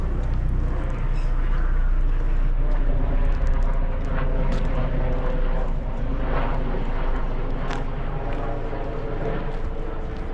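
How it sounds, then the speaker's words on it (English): A helicopter drones continuously overhead, a loud, steady low rumble with a throbbing hum that persists throughout. "And the helicopter's back."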